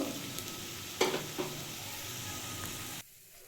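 Small shrimp pakoras fry in hot oil, giving a steady close sizzle with a few sharper crackles and splashes as pieces are turned, before the sound abruptly drops away.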